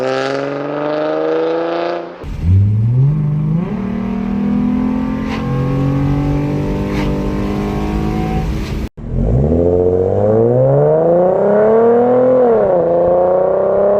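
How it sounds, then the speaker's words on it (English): A Ford Mustang with a 3.7 liter V6 drones loudly through its exhaust, revving up and down in long sweeps with a brief cut before climbing again, close by and with no voices. "the main thing that I had to complain about was that exhaust note"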